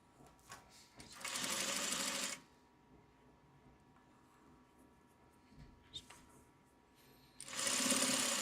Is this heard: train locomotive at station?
no